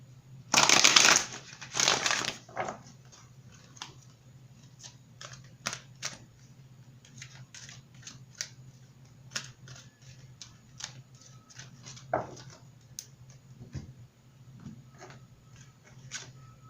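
A deck of cards is riffled in two quick bursts, followed by scattered soft clicks and taps of cards being handled, close and fairly quiet.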